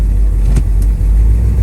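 A 1972 Chevrolet Chevelle with a 454 engine accelerating hard up close, a loud deep rumbling roar with a brief rising surge in the middle.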